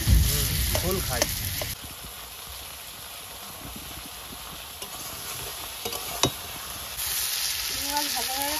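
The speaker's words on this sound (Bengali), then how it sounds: "চিংড়ি মাছ ভাজা হয়ে গেছে, এবার তুলে নেবো।" Prawns fry in hot oil in a pan at a village kitchen, giving a steady close sizzle with occasional stirring clinks and brief louder bursts of spitting.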